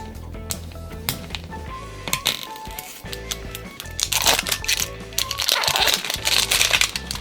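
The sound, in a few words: opening LOL Surprise ball wrapping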